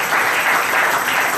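A church congregation applauds, a steady wash of clapping from many hands filling the room for the whole moment with no talk over it.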